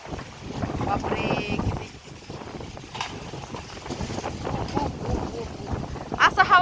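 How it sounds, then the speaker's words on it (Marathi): Strong wind gusts across open ground and roars in rough bursts against the microphone, while a person speaks briefly over the rumble. "असं हवा सुटली ना मित्रांनो"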